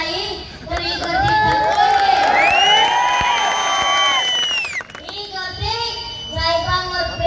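A large crowd at a political victory rally cheers and shouts in a sustained roar, with a loud whistle-like tone sweeping over the middle, then a voice speaks over the crowd's chatter.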